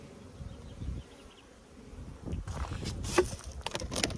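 Honeybees buzz around an open hive being fed fondant, a continuous close insect drone that swells and thickens partway through, with a few brief bumps and rustles nearby.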